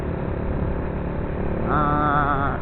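A 2017 Honda RCS 125 motorcycle engine drones steadily while riding, with a rising whining tone joining the broadband road and wind noise partway through.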